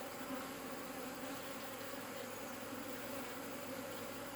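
Buckfast honey bees buzz around a hive, a dense, continuous drone of many insects, close and steady with no voices.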